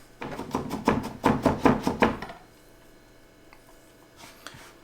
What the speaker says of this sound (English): while we still have the cutting board out, we'll chop up our garlic